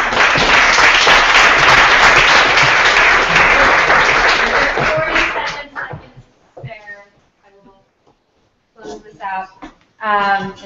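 Loud, dense audience applause closing a round of presentations at a food startup showcase fills the first five seconds, then fades away as a voice speaks in short bursts.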